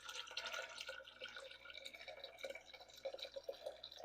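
Homemade wine must trickles and splashes through a small handheld strainer, a quiet, close, irregular pouring with drips and spatters and no talk.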